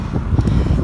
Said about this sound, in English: Bit windy, currently in a headwind